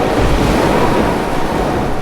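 A loud, continuous roar of surging waves and wind, dense and unbroken, with no voices.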